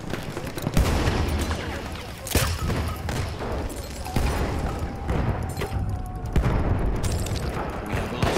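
MG15 n.A. machine gun firing in a World War I video game set in the Argonne Forest, loud, dense continuous bursts of gunfire mixed with booms and battle noise throughout.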